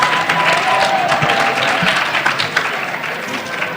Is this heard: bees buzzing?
no